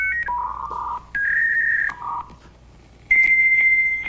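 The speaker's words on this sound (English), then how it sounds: "dial-up sound effect." A dial-up internet modem connects with a loud sequence of steady electronic tones that step between pitches, with short gaps between them, then settles into a sustained high tone, alone with no voices.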